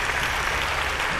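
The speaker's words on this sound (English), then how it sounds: "Crowd goes wild." An audience applauds and cheers in a brief, dense burst of clapping that fills the whole moment at steady loudness.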